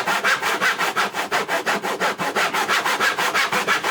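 A hand saw cross-cuts wood at a slight angle along an existing kerf, making close, loud, rasping strokes in a steady back-and-forth rhythm of about four to five strokes per second, alone.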